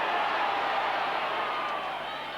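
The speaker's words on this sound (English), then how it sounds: "Crowd venting their feelings that there should have been a try there." A rugby league crowd at Leeds v Workington roars in protest over a missed try, a dense, steady wash of many voices that fades slightly toward the end.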